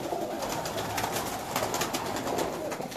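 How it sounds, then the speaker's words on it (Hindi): Prized loft pigeons near Mangla Road coo in a continuous low murmur, several birds overlapping at moderate volume against a hissy outdoor background, with no talking. "परवेज साहब के कबूतर भी बहुत जबरदस्त हैं जी,"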